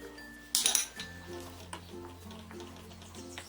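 A spoon stirring ground pistachio into a kulfi mixture in a bowl, opening with a loud metallic clatter and followed by light scraping clinks at a soft, close level.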